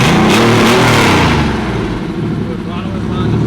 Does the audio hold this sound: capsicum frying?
no